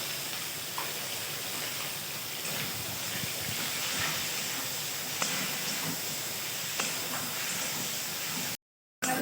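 Prawns fry in oil with salt and turmeric, a steady loud hissing sizzle with faint crackles throughout, cut off briefly near the end.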